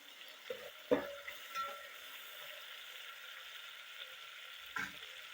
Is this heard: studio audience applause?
no